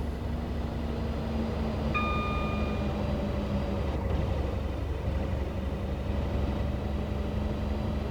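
A Class 37 diesel locomotive in Train Sim World 6 passes along the West Coast Main Line near Lichfield Trent Valley, a steady loud rumble with a drawn-out engine drone and a brief whining tone, no talk.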